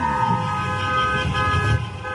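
A car horn honks at a traffic light with a sustained blaring tone over the rumble of nearby traffic and engines.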